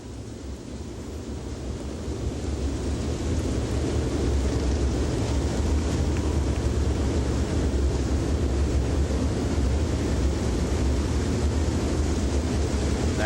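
Dirt late model race cars of nearly 900 horsepower rumble heavily in a continuous roar at Rome Speedway in Georgia, a broad, loud wash of engine noise heard at a distance that swells slightly and then holds steady.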